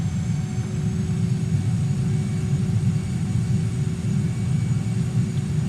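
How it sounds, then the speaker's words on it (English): Saab JAS-39 Gripen jet engine in reverse thrust in Microsoft Flight Simulator, a steady, even low rumble with a faint whine above it, continuous and unchanging throughout, with no voices. "here's one practical use for reverse thrust"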